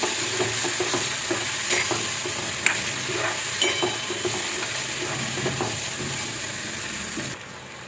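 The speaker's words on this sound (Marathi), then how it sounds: "आपण मसाल्यामध्ये हे सगळं परतून घेऊ." Cooked black peas sautéed in masala for a Maharashtrian usal, a steady close sizzle with repeated spoon-scraping stirs against the pan throughout, no talk.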